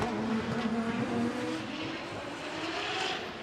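Two drift cars transitioning together at Formula Drift Japan, one driven by Yusuke Kusaba of Team Cusco Racing, their engines droning loudly and continuously with a roaring, shifting pitch at a distance.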